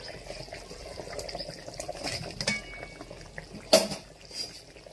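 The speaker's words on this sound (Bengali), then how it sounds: "ঝোল ফুটে গেছে, মাছ দিয়ে দেবো।" Fish curry broth with potato and cauliflower bubbles softly in a pot as fish goes in, with scattered utensil clinks, light splashing and one sharp metallic clank near the end, all close and without talk.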